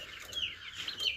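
Cobb 500 broiler chickens on a poultry farm give soft, overlapping clucks and high chirps, fairly faint and continuous, with no one speaking.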